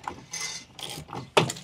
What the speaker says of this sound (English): With the breaker bar, ideally I'd be turning the nut, not the bolt.